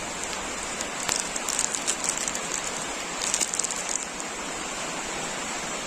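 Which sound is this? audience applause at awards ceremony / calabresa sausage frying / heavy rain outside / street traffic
heavy rain outside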